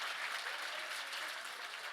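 Steady audience applause at a young adult forum as a journalist walks up to the stage, a dense wash of many hands clapping at constant volume throughout, with no talking over it.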